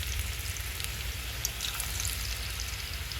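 Small pieces of sweet potato dough fry in hot oil, a steady dense crackling sizzle that runs evenly throughout with a few brighter pops, close and fairly loud, with no voices.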